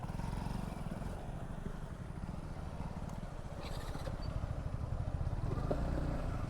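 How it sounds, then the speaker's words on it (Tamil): Motorbike engines rumble past on a forest road between Athirapally and Valparai, a steady low drone with rising and falling revs, fairly close, with no talk over it. "மூணு பைக்"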